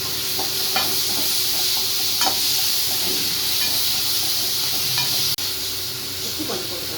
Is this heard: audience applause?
no